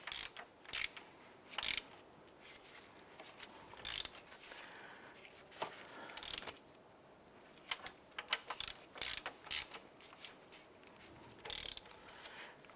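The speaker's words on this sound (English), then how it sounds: "With all 3 bolts started, let's go ahead and tighten them down" A ratchet tightens alternator mounting bolts on a 2011-2019 Ford Fiesta, giving faint, scattered bursts of clicking spread over the whole stretch against a quiet workshop background, with no talking.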